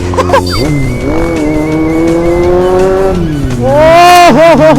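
A Kawasaki Z800 motorcycle engine revs loudly at close range, its pitch climbing sharply in several quick blips, with a longer steady rise and a final burst of revving near the end.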